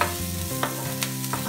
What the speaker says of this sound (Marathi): आपण आता ही छान आपला कांदा फ्राय करून घेऊया